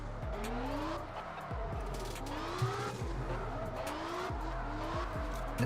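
Car engines in CarX Drift Racing Online 2 rev up and down in repeated rising pitch sweeps while tires squeal through drifts. The noise is continuous and busy, with several cars layered over each other and occasional dropouts in the sound.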